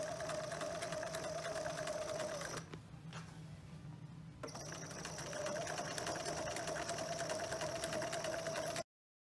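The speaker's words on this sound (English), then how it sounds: "We've finished sewing the first pleat and the last pleat." Sewing machine stitching pleats on a jacket runs in a steady, loud mechanical whir with a brief pause midway before resuming at full speed until it stops abruptly.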